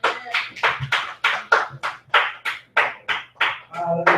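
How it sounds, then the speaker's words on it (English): A church congregation at a Sunday service claps in a steady, even rhythm of about a dozen sharp claps, fairly close and moderately loud. "Let's give him a hand clap as he comes."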